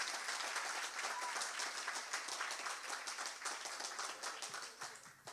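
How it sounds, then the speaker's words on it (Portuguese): A congregation applauding at a church celebration service, thick continuous clapping from many people with individual claps standing out, moderately loud and unbroken. "Você pode aplaudir o Senhor nessa noite?"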